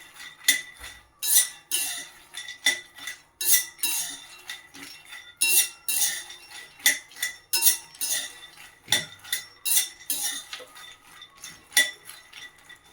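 Makhana fox nuts dry-roast in a pan while a metal spoon stirs them, producing sharp clinks and scrapes against the pan in irregular bursts with short quiet gaps between, close and alone without voices.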